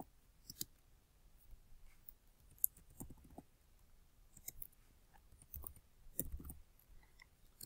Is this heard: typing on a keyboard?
yes